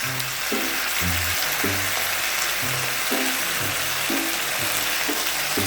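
Pork ribs fry in a pan with oyster sauce, giving a loud, constant sizzle and hiss with low, rhythmic stirring and scraping underneath and no speech.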